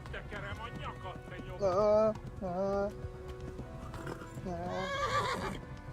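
A horse whinnies loudly twice amid rapid clip-clop hoofbeats of galloping in the game Kingdom Come: Deliverance, with game sound effects and a voice faintly in the background.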